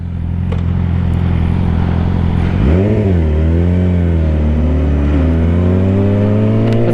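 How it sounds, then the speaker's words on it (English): An Audi R8 sports car engine on a highway idles with a deep steady rumble, then revs up sharply and settles into a loud, sustained roar with rising and falling pitch, close and dominant throughout. "Come on, rev it."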